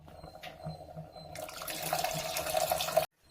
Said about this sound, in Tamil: புளி கரைசல் எடுத்துருக்கோம், எலுமிச்சை சைஸ் அளவுக்கு எடுத்துருக்கோம். இப்போ புளி கரைசல் போட்டுடலாம்.